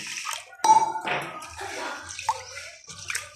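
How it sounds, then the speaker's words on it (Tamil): Pearl millet grains being rinsed by hand in a vessel of water, with splashing and swishing bursts near and fairly loud, pausing between swirls. "கம்பை நல்லா கழுவி ஊற வச்சுக்கலாம்"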